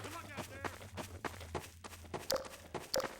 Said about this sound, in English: My favorite sound effects for footsteps.